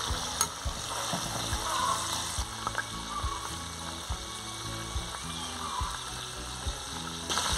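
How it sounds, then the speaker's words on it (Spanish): Pork sizzles as it fries in its own rendered fat without lard, a steady crackling hiss with frequent sharp pops and clicks from utensils or the pan over a low rumble. "ya se está friendo y la verdad ya no va a necesitar manteca es la pura grasita que soltó la carne"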